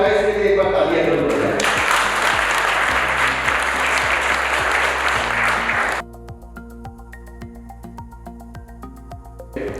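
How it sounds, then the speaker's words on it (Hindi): An audience at a finance seminar in a Delhi hotel ballroom bursts into loud, sustained applause over background music, clapping dense for several seconds before stopping abruptly while the music continues. "इसके लिए एक बार तालियां करो।"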